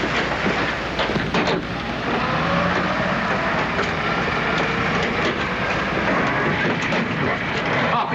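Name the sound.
train travelling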